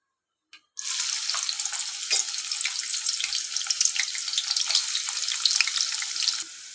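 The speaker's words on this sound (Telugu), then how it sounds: "ఇప్పుడు మన ఆనియన్స్ అయితే మంచిగా ఫ్రై అయినాయి." Sliced onions hit hot oil in a pot for a cabbage curry and break into a loud, continuous sizzle that stays bright and steady, crackling close up until it suddenly drops off near the end.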